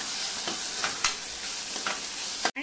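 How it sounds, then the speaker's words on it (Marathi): Chopped onion and tomato sizzle in a pan while being stirred, giving a steady close hiss with several soft scraping strokes and a brief knock near the end, with no talk. "मिक्स करायचे आणि कांदा आणि टोमॅटो मऊ होईपर्यंत वाट बघायची"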